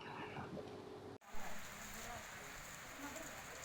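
Rain falls steadily at a landslide site, a soft continuous patter that follows an abrupt cut, faint and even throughout with no voices.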